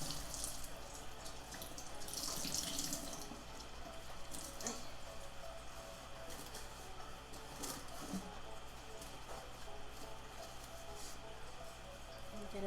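Water runs steadily from a sink tap while dyed fabric is rinsed, a continuous splashing hiss with occasional drips and handling clatter throughout.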